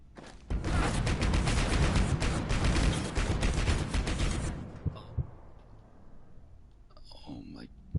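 A security turret in Abiotic Factor rattles out a dense, sustained burst of rapid gunfire for several seconds, then breaks off into scattered single clicks and shots, with a voice speaking briefly near the end.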